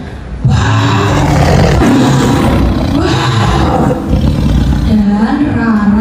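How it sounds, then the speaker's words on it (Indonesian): An angry lion roaring loudly, several long, deep, rumbling roars following one another close up, strong and sustained across the whole stretch. "Kemudian ia marah dan mengaum-ngaum dengan kerasnya."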